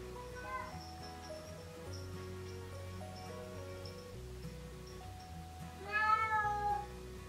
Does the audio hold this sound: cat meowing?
yes